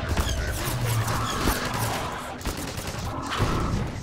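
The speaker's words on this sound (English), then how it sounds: "Where are they shooting from?" Rapid gunfire crackles in the video game Half-Life 2: Episode 1, with dense bursts of shots and impacts mixed with crashes over steady background action, loud and continuous.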